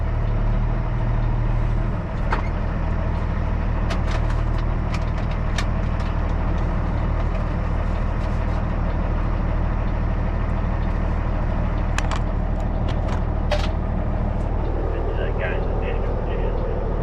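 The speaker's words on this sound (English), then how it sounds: "Driving a truck." A truck engine drones low and steady at close range while driving on a snowy road, with scattered clicks and rattles over the constant rumble.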